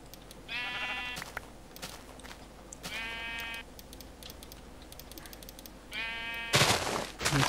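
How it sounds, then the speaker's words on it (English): Sheep in a Minecraft-style video game, with several stuck in a tree, bleat three times in short, evenly spaced calls. Brisk keyboard-like clicking runs underneath, and a sharp burst comes near the end. "Oh wow, there's so many sheep stuck in this tree for some reason."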